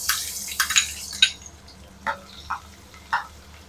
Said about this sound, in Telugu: ఆయిల్ కాగిందండి, ఆనియన్ వేస్తున్నానండి.